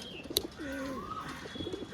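Domestic pigeons coo in soft, rolling, throaty calls close by, with a sharp click or flutter near the start. A quiet room background sits beneath the birds.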